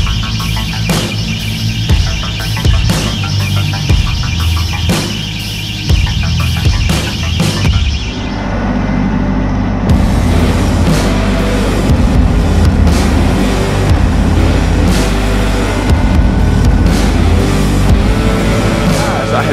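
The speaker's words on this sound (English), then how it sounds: "Got the Woods seed planter hooked up to my tractor." A tractor with a Woods seed planter hooked up runs loudly and close, a heavy low throbbing engine drone with clattering and rattling on top, continuing steadily throughout.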